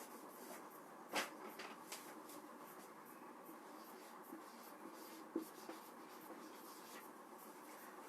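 Pen writing on paper during a maths lesson, soft continuous scratching strokes with a few taps, faint and close against a quiet background.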